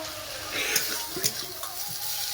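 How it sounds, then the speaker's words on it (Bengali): Tomatoes with spices and a little water stir-fried in a pan, giving a steady sizzle with a few scraping stir strokes over about two seconds, close and moderately quiet. "টমেটো দিয়ে ভালো করে কষাই করবো"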